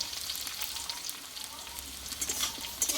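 Potatoes fry in a pan with turmeric, Kashmiri chili powder and salt, giving a soft steady sizzle with faint scraping and crackling as they are stirred.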